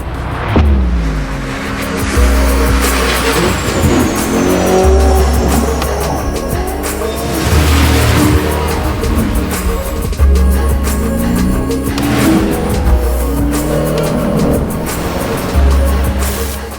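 A Lamborghini drives hard and revs, with a loud, continuous engine roar that climbs and falls through repeated gear changes, plus tire squeal and skidding under a layered commercial soundtrack.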